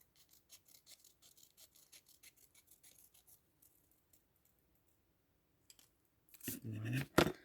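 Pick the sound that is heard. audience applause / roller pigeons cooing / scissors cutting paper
scissors cutting paper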